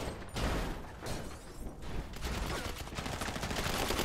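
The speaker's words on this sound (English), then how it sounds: "Heavy tank gun at the north gate." Heavy tank gun fire at the north gate in a video game raid, heard as rough, crackling bursts of shots and blasts mixed with a busy background din, fairly quiet overall.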